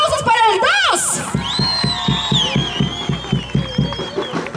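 Crowd at a fair contest cheering and whooping, with rhythmic clapping that keeps a steady beat. A loud amplified voice rises over the noise at the start.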